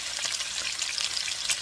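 Pork sizzling in a frying pan, a steady dense crackle with fine spitting pops, close and continuous with no voices.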